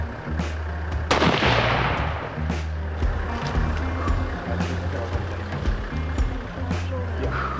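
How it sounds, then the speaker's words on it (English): A single loud rifle shot fired at a kudu during a hunt in the African bush, a sharp crack followed by a fading rumble, heard close over a steady low engine drone. "the shot felt perfect"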